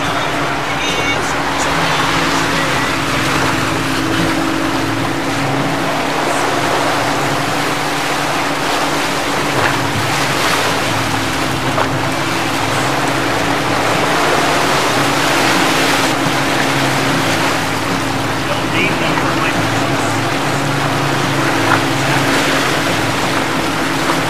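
Fishing boat engine droning steadily while riding 3 to 4 foot ocean waves, with continuous wind and water wash, loud and close throughout.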